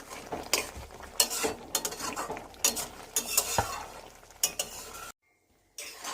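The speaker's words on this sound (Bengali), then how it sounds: "আমি এটাকে নেড়ে নামিয়ে নেব" Raw tomato and giant prawn curry being stirred in a pan, a spoon scraping and clinking in quick irregular strokes over a soft sizzle, then a brief silent gap near the end.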